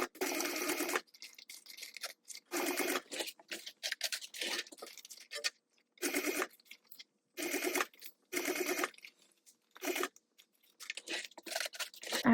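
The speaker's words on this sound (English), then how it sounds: "we're going to sew this all together at a 3/8 inch seam allowance" A sewing machine runs a 3/8 inch seam around a fabric sling in repeated short bursts, each about a second long with pauses between, close and fairly loud with no talk.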